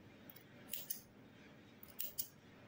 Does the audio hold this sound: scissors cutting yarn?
yes